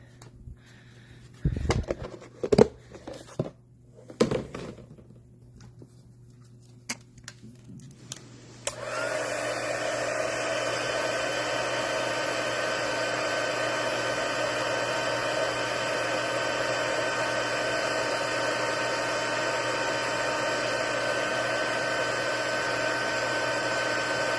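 A heat embossing tool heating a stamped paper card for a watercolor craft project, starting after a few soft taps and rustles and then blowing steadily and loudly, a constant dryer-like whoosh that runs alone to the end.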